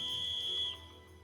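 A single sharp, steady whistle blast rings out in the video game Trails of Cold Steel, a clean high tone lasting about half a second over a faint low background hum, with no talk.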